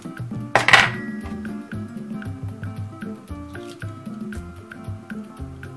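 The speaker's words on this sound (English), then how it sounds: "I'm going to crack my egg, one egg," A single egg cracks onto a plate, one short, sharp crunch near the start, followed by quiet background music.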